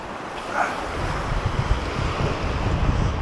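Rough ocean surf at a beach in the Maldives, a loud, continuous wash of breaking waves with heavy wind buffeting the microphone and no voices.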